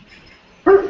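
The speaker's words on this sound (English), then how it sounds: "There's a dog that barks there behind, right?" A dog barks once, loud and sharp, in the background behind a quiet room where a lecture on spiritual society is taking place.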